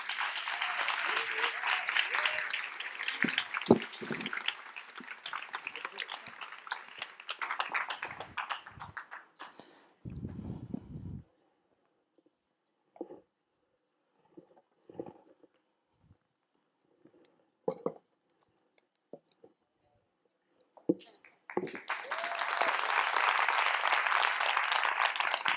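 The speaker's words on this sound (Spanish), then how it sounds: "Un fuerte aplauso." Audience applause at a daytime event, a dense round of clapping for several seconds, then scattered claps and quiet gaps with brief voices, before a second full burst of applause at the end.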